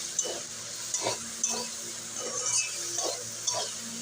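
Ginger paste, turmeric and cumin powder fry in a pan while being stirred, giving a soft sizzle broken by a regular series of scraping strokes, close and fairly quiet.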